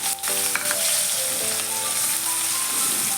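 Mustard seeds, cumin, asafoetida and green onion whites fry in hot oil, giving a steady, close crackling sizzle throughout with faint clinks from stirring.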